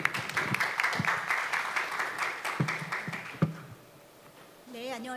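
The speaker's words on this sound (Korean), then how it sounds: "큰 박수로 환영해 주시기 바랍니다" Audience applause welcoming a speaker at the Jeju International Environmental Forum session on plastics: moderate, fairly distant clapping with sharper individual claps runs for about three and a half seconds, dies away, and a voice starts speaking at the end.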